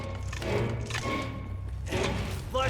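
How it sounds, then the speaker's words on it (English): A heavy gate is opened in the shooter game Wolfenstein: The New Order, giving a few dull mechanical thuds and clunks against a steady low game ambience. "Cover me while I open this gate."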